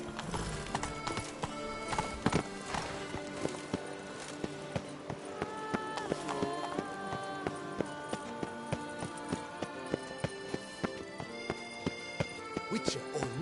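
Roach the horse galloping in The Witcher 3: Blood and Wine, a steady rapid clip-clop of hooves with a whinny, running under a full orchestral music score throughout.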